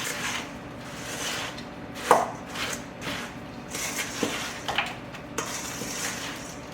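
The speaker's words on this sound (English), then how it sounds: "We'll stir this just so that the nuts are coated." Costco pecans are stirred into a chocolate mixture, giving scattered soft knocks and scrapes of nuts and spoon against the pot at close range over a low background hum.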